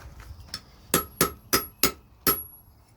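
Metal hammered on the horn of a blacksmith's anvil while forging a lantern or plant hook: a few light taps lead into five sharp, ringing strikes at an even pace, close and clear.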